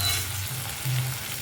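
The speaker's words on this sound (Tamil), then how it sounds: "வெங்காயம் தக்காளி வதங்கிடுச்சு." Onions and tomatoes sizzle and sauté in a pan for a raw banana thokku, a soft continuous frying hiss with a low hum underneath and no one talking.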